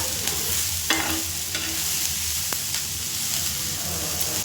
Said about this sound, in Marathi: हे अद्रक आणि लसूण पण भाजून घेते मस्त.